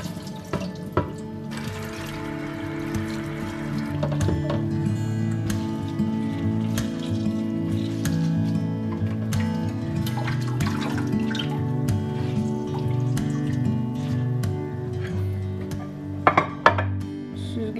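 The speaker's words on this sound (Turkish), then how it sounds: "Şimdi lahanaları güzelce yıkayacağız" Salted Chinese cabbage for kimchi being rinsed under a running kitchen tap, a steady rush of water into the sink with occasional clinks and splashes of handling, close and continuous throughout.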